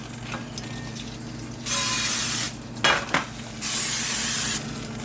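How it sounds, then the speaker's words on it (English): Two long hissing bursts of cooking spray onto pans, each lasting close to a second, separated by a brief metallic clatter of a pan being handled. "I'll just grab a little bit of pan spray."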